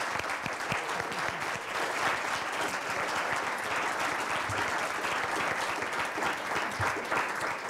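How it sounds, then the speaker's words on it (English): Audience applause following a debate on the responsibility to protect, a steady, dense clapping from a room full of people lasting several seconds at even loudness. "I'd like to give you a round of applause."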